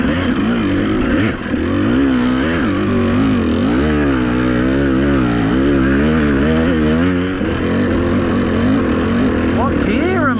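A motorcycle engine labors while climbing a hill, its pitch wavering up and down as the throttle is worked, loud and close, with a rider's voice heard over it.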